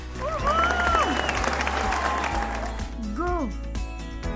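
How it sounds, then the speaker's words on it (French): Applause from spectators at a show jumping competition, steady clapping running through the clip beneath loud music with a sliding, whooping melody. "Et maintenant applaudissez bien fort."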